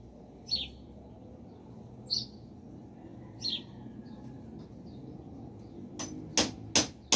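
Light hammer taps while fitting a part on a Skil power tool's bearings and gears: three separate sharp knocks spaced about a second and a half apart, then a quick cluster of louder clacks near the end, over a faint background hum.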